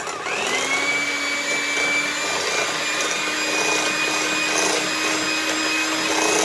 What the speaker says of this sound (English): we're going to mix all these ingredients together on medium speed until they're well incorporated